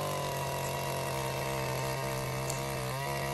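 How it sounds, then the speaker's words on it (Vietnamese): Takyo TK3P wheeled-frame earth auger drilling into soil, a steady, loud, buzzing two-stroke engine drone holding near-constant pitch throughout, with no talking. "Có thể khoan được tất cả các địa hình đất, đồi, núi, dốc, có nhiều rễ cây và đá."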